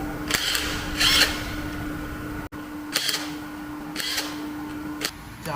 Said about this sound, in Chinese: 将8颗螺丝拧出